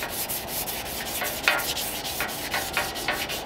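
Sandpaper rubs over epoxy on a hot rod interior panel in quick back-and-forth strokes, a close, steady gritty scratching with a few sharper rasps and no talk.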